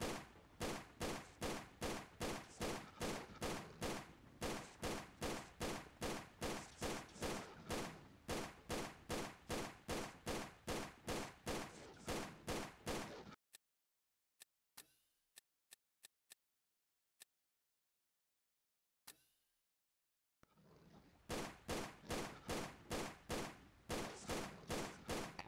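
Video game gunfire in Tomb Raider: Angel of Darkness pounds in long rapid automatic bursts of evenly spaced loud shots, then drops to near silence with a few isolated cracks before the steady hammering resumes.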